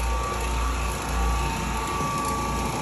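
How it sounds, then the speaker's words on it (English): A floor buffer runs across pre-finished hardwood floors after wax removal, a close, steady motor whine with a low rumbling pulse that swells and eases as the machine moves, with no talking. "So I'm just buffing the floors out"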